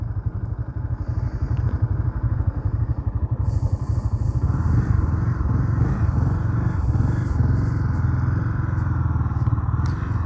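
Motorcycle engines idle and putter steadily nearby at the Pedra Furada tourist site, rising as the bikes roll and shift, with clattering and a few thumps as they come to rest and park.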